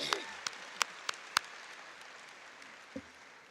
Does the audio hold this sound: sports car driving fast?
no